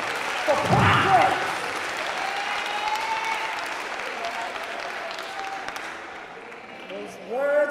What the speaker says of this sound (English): let's give God a hand clap of praise for progress